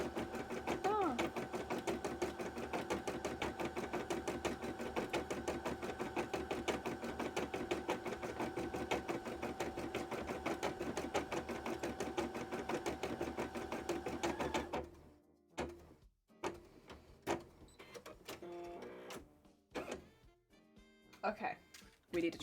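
A sewing machine stitches a cosplay costume in a steady mechanical hum with fine rapid ticking through the first fifteen seconds, then stops, leaving scattered handling clatter and brief bumps while a person talks.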